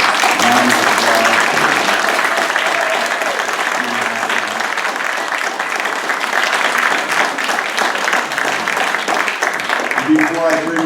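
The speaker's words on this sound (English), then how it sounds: "let's give them a round of applause" A crowd at a dark sky sanctuary dedication on Beaver Island gives sustained, full applause lasting around eleven seconds, with a few voices faintly audible beneath the clapping.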